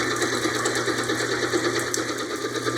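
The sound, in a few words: electric mixer whipping egg whites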